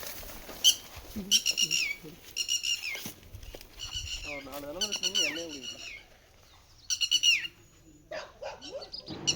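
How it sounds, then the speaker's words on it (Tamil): Several birds call and chirp in bursts in a village, some shrill and repeated, others warbling, with quiet gaps between; faint lower sounds in the background. "இந்த மாதிரி ஆடு மாடு இந்த பறவைகளோட சத்தம் அதெல்லாம் எப்போவுமே கேட்டுக்கிட்டே இருந்துச்சு."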